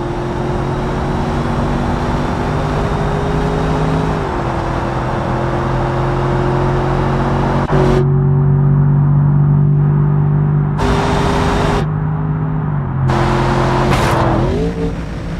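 Porsche sports car engine in the BeamNG.drive driving game, a steady close engine drone holding a sustained tone with slight pitch dips and rises as the throttle changes, loud and continuous throughout.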